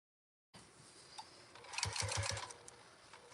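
A sewing machine chain-stitches a run of microwaveable bowl cozy pieces one after another, a steady mechanical whir with rapid needle ticking that grows louder and busier midway through.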